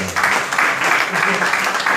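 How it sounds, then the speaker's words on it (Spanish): A church congregation claps during a Yom Kippur service, producing dense, rhythmic applause that rises and falls in loud bursts, mixed with voices. "Aplaudan al Rey de Gloria."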